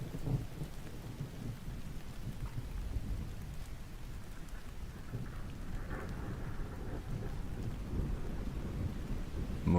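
Steady rain and low rumbling thunder from a video game's weather effect play continuously and evenly at moderate level, with no voices over them.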